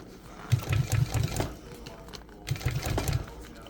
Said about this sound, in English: and then keep on sewing.